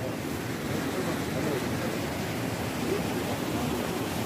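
Spring water gushing steadily at a mineral spring, a continuous broadband rush like a small waterfall, close and constant throughout with no voices.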